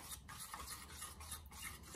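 A spoon stirs gram flour batter for bread pakora in a bowl, giving a soft, steady swishing and scraping, faint and close with no talk.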